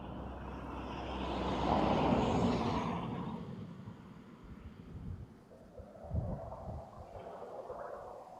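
A KLM airliner at Amsterdam Schiphol Airport roars past, its broad jet noise swelling to a peak and then fading into a softer, more distant rumble under the wind.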